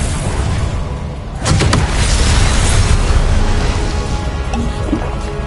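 A Confringo fire spell bursts with a sharp explosive boom in Hogwarts Legacy on PS5, rising out of steady battle noise and trailing off into a rumbling wash.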